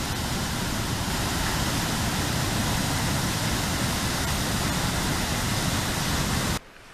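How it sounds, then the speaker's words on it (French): A small mountain waterfall on the Tour du Mont Blanc trail gives a loud, steady broadband rush of falling water, close by and unbroken, cutting off abruptly near the end. "Une dernière petite cascade encore."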